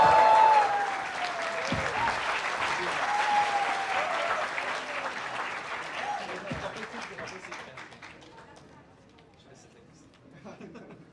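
A large crowd applauds guests Prateek Sethi and Gaurav Juyal arriving on stage at the Technovanza VJTI creators conclave. Dense, loud clapping with some chatter swells for about eight seconds, then thins and fades away.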